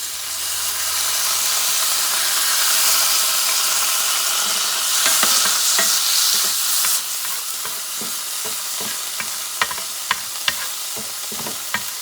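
Brined green peppercorns hit a hot pan on an electric stove for steak au poivre, a loud hissing sizzle that eases after several seconds into softer frying with scattered pops and crackles.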